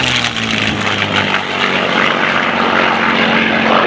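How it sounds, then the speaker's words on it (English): P-51D Mustang piston aircraft engine at a military vehicle rally in Essex, a loud, close, continuous propeller drone with a rough throbbing texture, holding steady throughout without any talking. "Beautiful sound by the engine."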